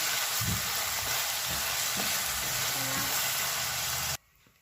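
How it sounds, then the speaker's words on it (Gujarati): Onions fry in a pan for boiled egg bhurji with a steady, dense hiss and a few faint stirring knocks underneath. The sound cuts off abruptly near the end. "આપણી ડુંગળી શેકાય છે"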